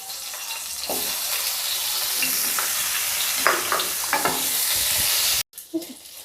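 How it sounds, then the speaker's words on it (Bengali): Brinjal pieces rubbed with salt and turmeric fry in hot oil for a hilsa curry, giving a loud, steady sizzle with scattered sharp pops and spatters, then stopping abruptly near the end before a few faint clinks. "এবার আমি এর মধ্যে দিয়ে দিচ্ছি বেগুন।"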